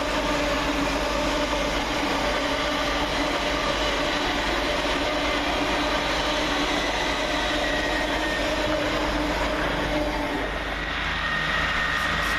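An LNER Class 800 train passes through Peterborough station as a loud, sustained roar with a steady hum and rail noise that continues for the full length and eases slightly near the end.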